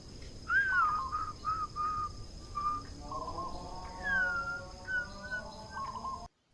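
A person whistles in imitation of a zebra dove (perkutut) call, giving a string of short, clear tonal notes followed by longer, smoother warbling phrases over faint background noise.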